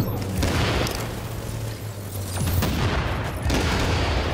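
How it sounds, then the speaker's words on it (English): Mortar explosions in the video game The Division sound as loud, dense, rumbling booms with a low drone, continuous and close for the whole stretch. "More mortars."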